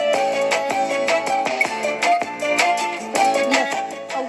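A small radio receiver, given as a February 23 gift, plays music with steady melodic tones and regular beats, loud and close, with no talking over it.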